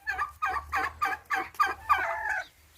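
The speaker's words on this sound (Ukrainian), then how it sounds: "Бачите, які гарні індюки?" A run of turkey gobbles on a farm, about six rapid bursts in a row, fairly close and moderately loud, with a low steady hum beneath.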